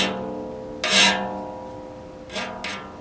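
A sawmill blade is sharpened by grinding, with one loud rasping burst and two shorter ones over a steady motor hum, close by.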